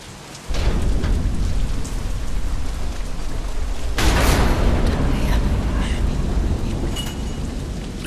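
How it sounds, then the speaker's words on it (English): A storm in the video game Deadlight starts abruptly with heavy rain hissing loudly and continuously, and a deep rolling thunder crash swells midway before the downpour carries on. "damn storm."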